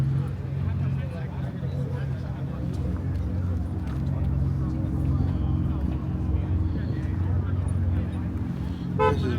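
A turbocharged manual car at a BMW meet, fitted with BBS wheels, gives a steady low engine rumble that runs throughout, close by, under constant nearby chatter.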